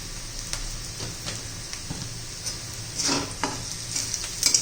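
Chopped onions sizzle and fry in a pan for a fenugreek-leaf (methi) vegetable dish, a steady close hiss with occasional stirring scrapes and light crackles, no talking.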